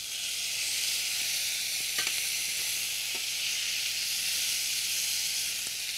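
Tomatoes added to a pan of fried onions sizzle with a steady, even hiss and a few soft clicks of stirring in an Indian home kitchen, with no talk.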